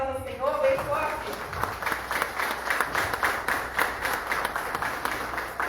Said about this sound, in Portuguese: um aplauso ao Senhor, bem forte